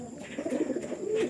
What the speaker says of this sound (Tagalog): Ito na mga kalapatids, yung ating ikakarga mamaya.